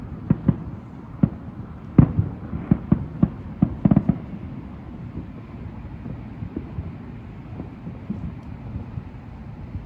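Fireworks explode in the sky outdoors during Fourth of July celebrations, a cluster of distant sharp bangs and crackles in the first few seconds, then fading to occasional faint pops over wind noise.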